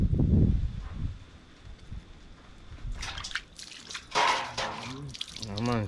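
Cleaned, scaled fish are washed under water, with splashing, sloshing and running water in irregular bursts nearby, louder toward the end, and a voice briefly heard.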